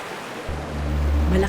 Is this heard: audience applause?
no